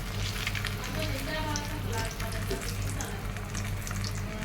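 Rohu fish pieces fry crisp in hot oil for biryani, giving a dense, continuous crackling sizzle heard up close throughout.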